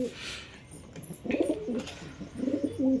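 Pet pigeons coo in low, throaty bursts at close range while feeding on puffed rice, the rolling calls swelling twice and overlapping, with faint scratchy pecking noises between them.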